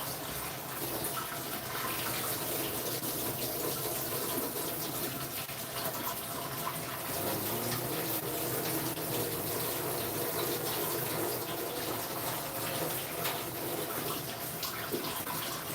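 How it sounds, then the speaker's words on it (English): A tap runs in a steady, continuous stream while the water heats up for mixing hot drywall mud, a close, even hiss that stays constant with no talking. "I'm going to get the water hot."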